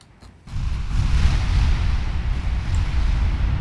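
Battleship guns in Ultimate Admiral Dreadnoughts firing at a destroyer: after a short quiet start, a heavy booming barrage swells into sustained, loud, low rumbling that carries on to the end.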